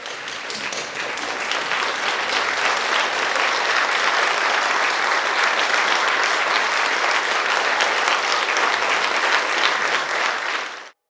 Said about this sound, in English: Can we please hear a big round of applause?